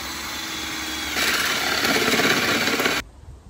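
A power drill with a spade bit whirs steadily, then its pitch and roughness rise as the bit chews into wood, stopping abruptly near the end.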